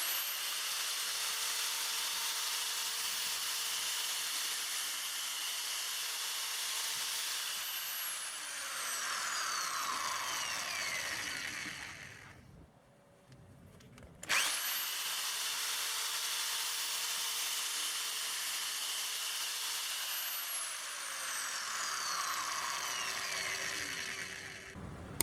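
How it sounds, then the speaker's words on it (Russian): A corded electric drill mounted in a homemade vertical drill stand bores into a workpiece, with a steady high whine and grinding noise across two drilling passes, broken by a short quiet pause in the middle. "Ну и продемонстрируем, как сверлит"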